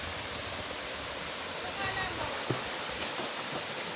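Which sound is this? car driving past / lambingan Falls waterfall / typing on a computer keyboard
lambingan Falls waterfall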